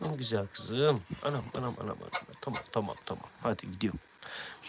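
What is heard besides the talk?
None of the usual background noises is heard.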